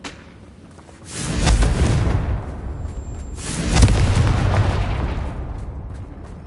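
Two booming fire-explosion spell blasts (Confringo) in Hogwarts Legacy, each a heavy low thump followed by a roaring, crackling decay, a couple of seconds apart, loud with no talk.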